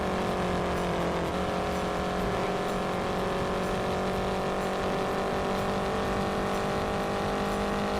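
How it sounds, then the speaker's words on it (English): Race car engine in the Indianapolis 500 Evolution racing game, a steady loud high-revving drone with shifting harmonic tones, sustained throughout without talk. "Engine sounds a lot better now, so maybe that problem solved, hopefully."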